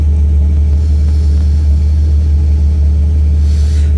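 A car engine fitted with a 60mm throttle body idles steadily at around 750 rpm, a close, constant low rumble with an even pulse and no voices throughout.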